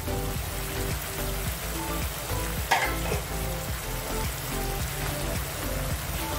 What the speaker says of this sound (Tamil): உப்பு போட்டுட்டு நல்லா ஃப்ரை பண்ணுங்க